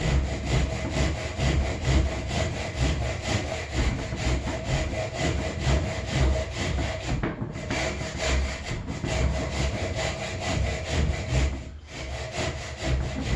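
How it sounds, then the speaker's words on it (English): A slightly dull hand saw cuts steadily through wood for a double locking lap joint, with continuous rhythmic rasping strokes close by and two brief pauses; no voices. "These saws are starting to get some time on them too, so not exactly perfectly razor sharp."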